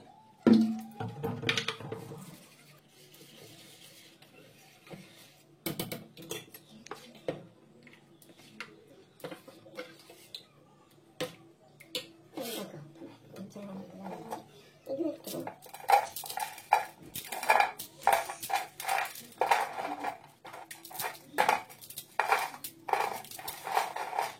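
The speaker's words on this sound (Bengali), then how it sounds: "আর দিয়ে দেবো জল। জল দিয়ে ব্যাটারটা বানিয়ে নেবো সুন্দর করে।" Batter being mixed with water in a bowl for a potato and flattened-rice snack, with clinks and scrapes of a spoon against the bowl that grow busier and more rhythmic toward the end, and a voice talking at times.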